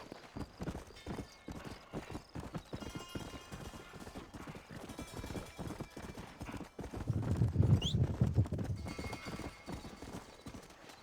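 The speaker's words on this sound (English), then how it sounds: "aquele é meu cavalo" A horse galloping in Red Dead Redemption, with steady clip-clop hoofbeats throughout that swell louder and nearer toward the end, where a whinny cuts through.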